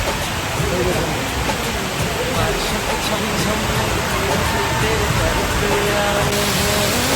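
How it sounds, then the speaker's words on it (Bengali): Heavy rain pours steadily at the Bhairav Nath temple near Vaishno Devi, a dense, loud, unbroken hiss of falling water that fills the whole stretch, with possible voices faintly mixed in. "প্রচণ্ড বৃষ্টি এই দেখুন বৃষ্টি আর থামবে বলে মনে হচ্ছে"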